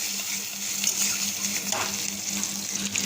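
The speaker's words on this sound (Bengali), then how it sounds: "তো দেখো আমি তেল দিয়ে দিলাম, তেলের মধ্যে পেঁয়াজ দিয়ে দিলাম, পেঁয়াজটা আগে ভাজতে নিই।" Onion sizzles steadily in hot oil with a dense, continuous crackle and a faint low hum underneath. There is no talking.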